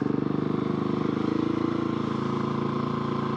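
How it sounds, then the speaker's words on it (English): Supermoto motorcycle engine revving hard during wheelies, a loud close buzzing drone with a pulsing throttle rhythm and no talk. "Let's do a quick wheelie or two while I'm here"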